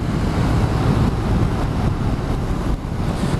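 Steady broadband wind rush while riding a 2019 Honda CBR500R motorcycle, loud and continuous with low rumble throughout, smooth and unbroken with no speech.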